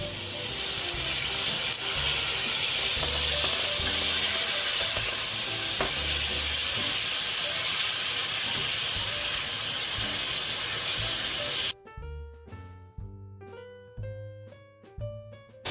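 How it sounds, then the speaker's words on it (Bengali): Water poured into a pan of spices sizzling in oil while cooking ghugni: loud, steady frying hiss with stirring for about twelve seconds, then an abrupt drop to quieter, sparser sizzling and clinks. "সমস্ত মশলা ভালোভাবে কষানো হয়ে গেছে অল্প একটু জল দিয়ে দেব"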